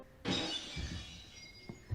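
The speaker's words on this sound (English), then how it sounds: "they hear some glass shattering upstairs" Glass of an upstairs window shattering in a house, a sudden sharp crash with tinkling debris that fades quickly, heard from a distance inside the home.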